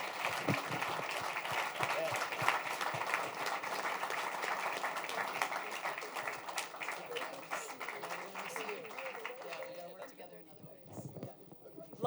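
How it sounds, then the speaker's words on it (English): An audience at a food security program launch gives a round of applause, a dense, sustained clatter of hands that fades out near the end, with some voices mixed in. "Let's give them a round of applause."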